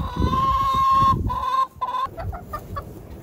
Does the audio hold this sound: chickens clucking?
yes